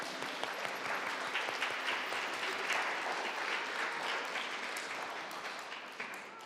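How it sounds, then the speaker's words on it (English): Warm applause for the teachers at a Christmas chapel gathering, steady and fairly close, holding for several seconds and easing slightly toward the end with no voices over it. "let's clap for those teachers"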